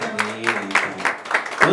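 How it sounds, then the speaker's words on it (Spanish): Applause at a mariachi birthday party breaks out right after a love song, with several soft clapping swells under sustained instrumental tones and a voice talking over it. "Claro que sí, el aplauso."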